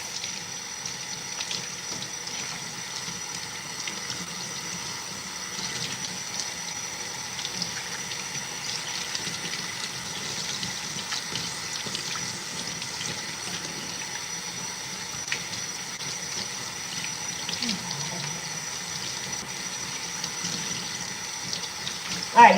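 Cold tap water runs in a steady, hissing stream as hair is rinsed during an at-home wash, continuous and moderately close for the whole stretch with no talk over it.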